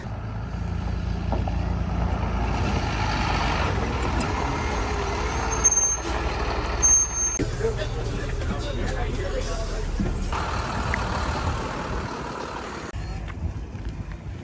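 A large vehicle, apparently a bus, rumbles and idles nearby with sharp hisses of air brakes releasing, while voices and crowd chatter continue underneath at an outdoor event.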